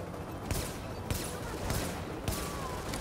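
Gunfire in the shooter game The Division comes as four sharp, evenly spaced shots over a dense background hum of battle, loud and close.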